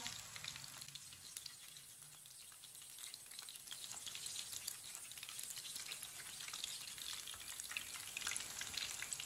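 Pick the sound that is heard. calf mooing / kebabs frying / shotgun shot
kebabs frying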